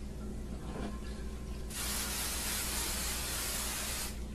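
A continuous hiss of cooking spray coats an 8x8 baking pan, starting abruptly and holding steady for a couple of seconds before stopping, over a low background hum.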